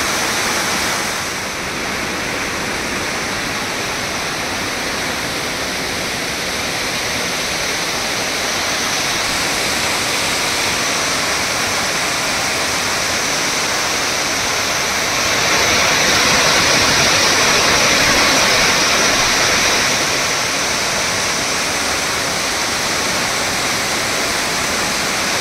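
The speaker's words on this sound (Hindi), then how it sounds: "एक फॉल्स जो आ रहा है उसका पानी जो है गंदा आता है" Waterfall at Banjhakri Falls in Gangtok, Sikkim, a steady, loud, continuous rush of falling water filling the whole scene, swelling slightly louder partway through, with no voices.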